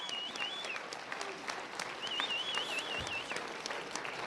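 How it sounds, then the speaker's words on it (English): Studio audience at a 1945 radio show applauding steadily, a dense close clatter of clapping hands throughout, with a faint whistling tone wavering above it. "Let's give a big round of applause for Lorene."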